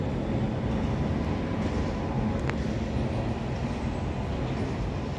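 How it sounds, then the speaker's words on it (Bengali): A train carrying Indian Army vehicles and tanks rumbles past near Agra, a continuous heavy low roar of rolling wagons with faint wheel clatter, steady and close throughout. "ট্রেনে করে আর্মির গাড়ি আছে কিন্তু দিল্লি থেকে"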